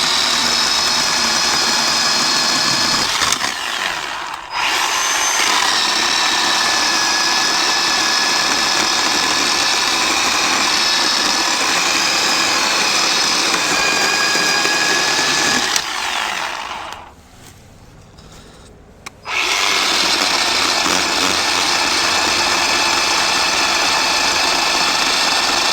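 A Harbor Freight 10-inch electric chainsaw running with a loud, steady high whine, close up; it cuts off briefly twice, once near the start and again for a few seconds later, then resumes at full speed.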